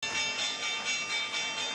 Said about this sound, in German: Die Glocke läutet.